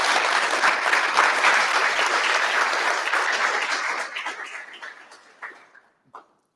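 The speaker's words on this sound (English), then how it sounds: "Let's give them a round of applause for coming." An audience at an evening founders' tech event bursts into dense, loud applause that holds steady for several seconds, then thins to a few scattered claps and stops.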